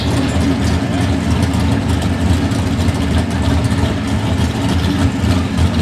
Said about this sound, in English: You like these V8s?